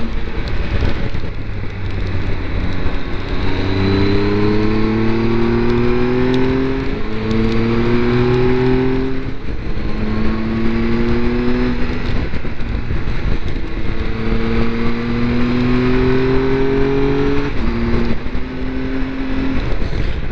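A KTM motorcycle engine revs hard and pulls through the gears on the Bernina Pass, a loud, sustained rising and falling drone with repeated climbing pitch sweeps under constant wind rush, with no voices.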